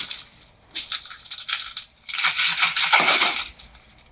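Crisp crunching bursts of a knife slicing the stem and root ends off a red onion, two distinct cutting passes with a short gap between them, close and alone without talk.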